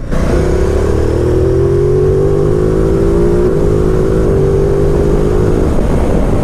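A 2019 Ducati Multistrada 950 S engine pulling hard under acceleration, loud and close with a steadily rising drone, a brief dip as it shifts gear, and constant wind rush throughout.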